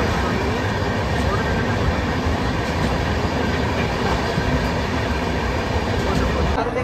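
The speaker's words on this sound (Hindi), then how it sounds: "तो फाइनली हम लोग ट्रेन को छोड़ दिए हैं, पूरी स्टेशन पे है।" A train runs on rails near Puri station, a loud continuous rumble with rattling wheel and carriage noise throughout, steady and close with no pauses.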